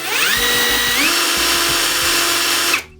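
Start Pro cordless rotary hammer runs continuously at variable speed, its motor whine rising in pitch partway through as the trigger is pressed harder, loud and steady for nearly three seconds before cutting off, with no talk.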